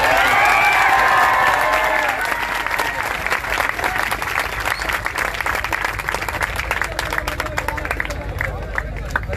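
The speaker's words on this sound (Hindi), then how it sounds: "जोरदार तालियां" Loud crowd applause at a political rally of AIMIM supporters in Aurangabad, cheering the arrival of a local team. Dense clapping fills the clip, mixed with crowd hubbub and voices, while a tonal sound fades out at the start.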